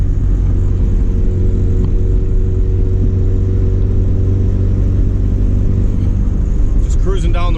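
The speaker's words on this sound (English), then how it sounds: "Today we're cruising in my hatch." Honda Civic hatchback cruising on the road, a loud steady interior engine drone and road rumble throughout, with a brief voice near the end.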